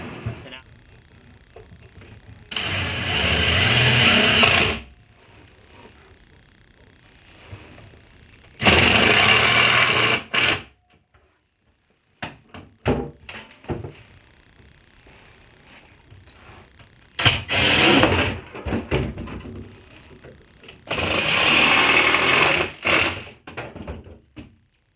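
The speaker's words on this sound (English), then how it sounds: "I gotta sand these down first, and then we'll get these installed." Wood pieces for a kitchen island being power-sanded in several loud, sustained bursts of a few seconds each, separated by quieter gaps with knocks and handling noises.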